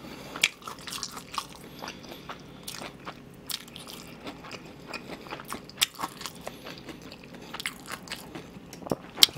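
Crispy fried pork cutlet (tonkatsu) is bitten and chewed up close, with repeated sharp crunches and crackles over soft chewing, uneven in rhythm and with no talking.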